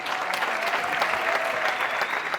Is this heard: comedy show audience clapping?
yes